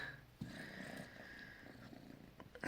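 A cat purrs softly and steadily at close range while being affectionate, a faint low rumbling with a few small rustles and bumps around it.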